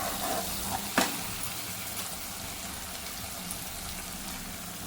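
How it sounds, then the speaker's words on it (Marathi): Potato pieces and eggs frying in a pan with a steady, fairly quiet sizzle, a brief sharp knock near the start, and no voices. "मस्त आता तळून घेतो हे आलू आणि अंडे छानपैकी तळून घेतो"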